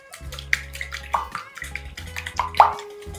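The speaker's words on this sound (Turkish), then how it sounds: "Şekerimiz eriyene kadar çırpacağız" A lemon, vanilla and sugar mixture for lemon crinkle cookies is whisked in a bowl. It gives soft, wet sloshing and clicking strokes over steady background music.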